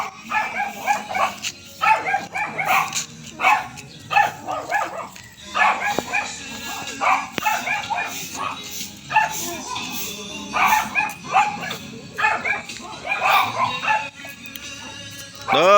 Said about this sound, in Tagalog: huwag ka lalapit dyan sa aso